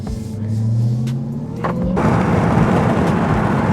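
Dodge Charger Hellcat Widebody engine, heard from inside: a steady low hum that jumps at the two-second mark into a loud, dense rumbling roar as the car accelerates.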